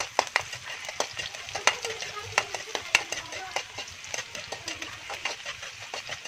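Onion sautés in a pan for sardines with sayote, with a gentle sizzle under repeated quick clicks and scrapes of a spatula stirring against the pan.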